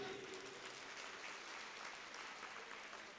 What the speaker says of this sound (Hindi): तालियां आपने पहले ही बजा दी